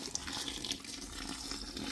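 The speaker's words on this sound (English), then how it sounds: "I'm going to take this 600 milliliters of water. All the way. And I'm just going to pour that in" A 600 ml measure of water is poured into an indoor food waste composter, a steady close trickling and splashing stream that runs continuously at low level.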